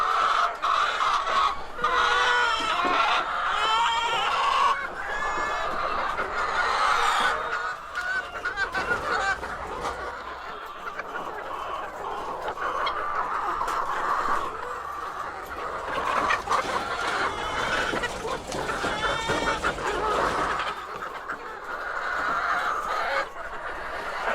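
A flock of chickens clucks and honks continuously for a long stretch, many overlapping calls close by with steady outdoor noise underneath.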